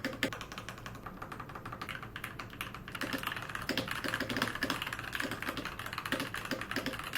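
Fingers type on a tri-mode hot-swappable mechanical keyboard with soft, fairly quiet switches, a close, steady stream of rapid clacks that grows a little busier partway through.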